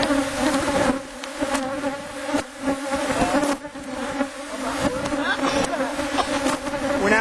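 Honey bees swarm and buzz around an opened hive during a split inspection, a dense, loud, continuous drone close by that rises and dips slightly throughout.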